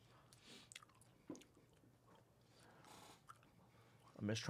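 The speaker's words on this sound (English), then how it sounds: "I said to chew it for about 5 minutes here" Someone chews an MRE food item slowly with faint moist, squishy bites close to the mouth, quiet throughout, ending in a louder burst of voice.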